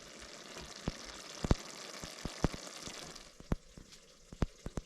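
Beef, garlic and vegetables frying in a pan inside a hot tent in a frozen winter forest, a continuous close sizzle punctuated by sharp pops and spatters.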